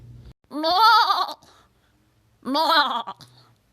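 Two loud goat bleats, each about a second long with a wavering, nasal tone, separated by a short pause and standing alone without talk.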